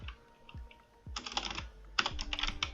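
Code is typed into an Arduino program on a computer keyboard, first a few scattered taps and then two quick clattering bursts of keystrokes, close and clear with no voices.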